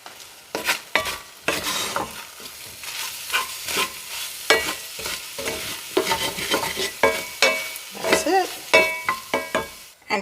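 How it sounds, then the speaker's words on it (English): Eggs and potato cook in a hot cast iron skillet, a sizzling bed under frequent sharp stirring and scraping strokes with light utensil clinks, close and lively throughout. "my cast iron skillet will carry over the heat to finish cooking the eggs"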